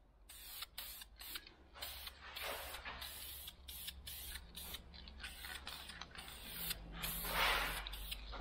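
Aerosol spray paint hissing onto Kawasaki Vulcan 900 motorcycle parts in a home workshop, a steady close hiss broken by short pauses and bursts, with clicking nozzle sounds and a stronger spray near the end.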